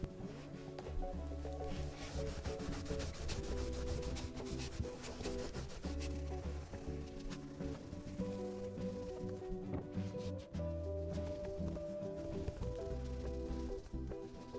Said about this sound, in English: I'm gonna buff it out now.